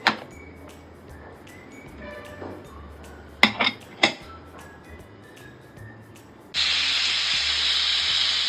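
A pressure cooker cooking chicken curry starts hissing loudly partway through, a sudden sustained jet of steam, after a quieter stretch of scattered clinks of pots and utensils.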